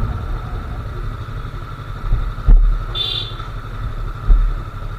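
A Yamaha R3 parallel-twin motorcycle engine gives a steady low throbbing hum up close, with a couple of brief surges and a short higher whine partway through.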